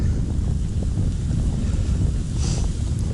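Steady wind blowing hard against the microphone on winter ice while pike fishing, with snow, a constant low roaring rumble with no talking.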